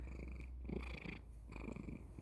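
A cat purring close up, a steady soft rumbling with rhythmic breaths, quiet and continuous, no talking.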